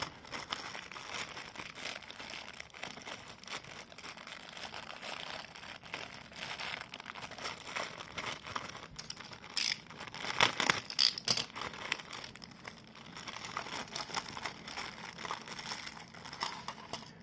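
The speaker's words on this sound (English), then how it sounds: "let's have a look in this bag here, which is sealed, hasn't been taped shut" A sealed plastic bag is handled and pulled open at close range, soft crinkling and rustling throughout with a brief louder burst of crackling plastic partway through.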